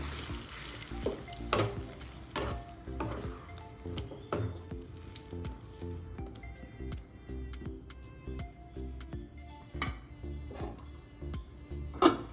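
Brinjal and broad beans simmer in a spicy kara kuzhambu after about 100 ml of water is added, giving soft crackles, bubbling pops and scattered sharp clicks at an uneven pace, fairly quiet and close.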